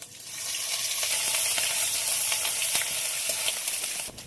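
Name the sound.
grated ginger frying in oil with spices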